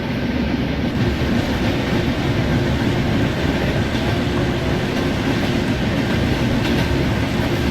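Train running in the Indian Train Simulator game, a New Delhi–Bhubaneswar Duronto near Ghaziabad, giving a loud, steady rumble of rolling wagons with clickety-clack from the wheels, continuous and without talking.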